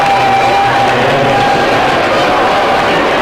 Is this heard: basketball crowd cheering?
yes